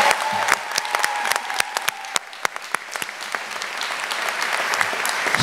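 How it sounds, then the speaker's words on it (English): Audience applause at a university commencement ceremony, with dense clapping from a large crowd and scattered sharp individual claps, steady and fairly close, with a faint voice briefly underneath. "Another round of applause for Michele Thornton Ghee."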